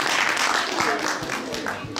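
An audience at a cosplay contest during a geek convention in Nangis claps in steady, moderately loud applause, with a voice talking over it.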